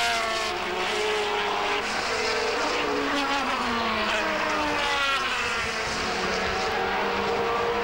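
Formula 3000 race cars lapping Silverstone in 1993, a loud, continuous high-revving engine wail whose pitch rises and falls as cars pass and shift gears, filling the whole stretch without a break.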